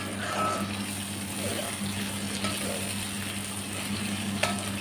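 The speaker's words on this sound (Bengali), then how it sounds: "পেঁয়াজের সঙ্গে মশলাপাতি দিয়ে কষিয়ে নেব" Onions and spices are stir-fried over low heat in a pan, giving a continuous soft sizzle with occasional stirring scrapes, steady and moderately close, with a faint hum underneath.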